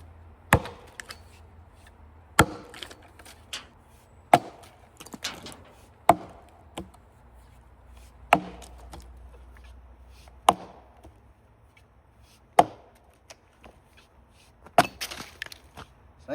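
An axe splitting maple firewood: about a dozen sharp, separate chops and cracks at uneven intervals, close and fairly loud, with quiet pauses between strikes.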